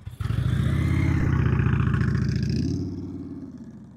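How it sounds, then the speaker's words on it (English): A motorcycle engine revs steadily at a distance during slow-speed riding practice, a droning mid-pitched tone that holds for over two seconds and then eases off and fades. "I don't get to hear my motorcycle often in the distance."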